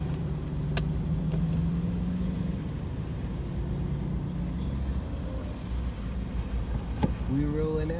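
Cars roll out from a Cars&Coffee cruise in Louisiana, with passing engines and road noise at a moderate distance, a couple of brief clicks, and faint voices in the background.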